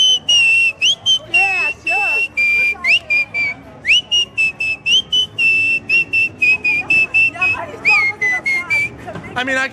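A person whistles the lively tune from Kill Bill close by, with quick sliding notes in short repeated phrases and brief pauses between them.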